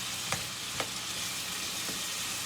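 Steady broadband sizzle of beef stew ingredients frying and sautéing in olive oil, continuous and close, with a couple of faint clicks or stirs along the way.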